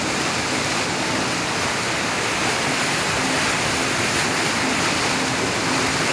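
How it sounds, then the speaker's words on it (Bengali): Strong water current of a stream at a scenic picnic spot, rushing as a steady, loud, unbroken roar of churning water throughout, near and alone with no voices. "ভীষণ জলের স্রোত দেখো"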